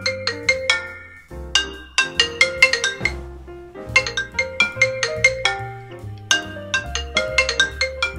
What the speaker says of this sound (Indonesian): Dan untuk speakernya lo bisa dengerin sendiri di sini.